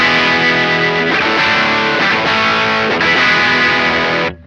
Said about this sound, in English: with the BB preamp turned on the crunch channel of my AMT SS-11, it sounds like this